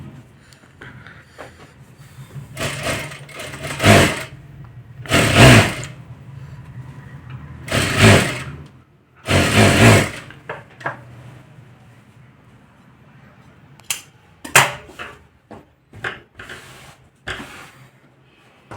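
A sewing machine stitching a katori blouse runs in several short bursts, loud and close, with quieter clicks and fabric handling between the runs.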